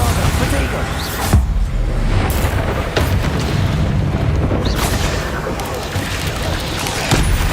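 A Bombarda spell explosion in Hogwarts Legacy, with a dense, loud, booming rumble and repeated blasts that roll on throughout over continuous game noise, while a voice talks over it.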